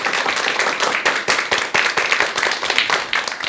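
An indoor lecture audience gives dense, steady applause to welcome the speaker, with many hands clapping at once, loud and close, for the whole stretch.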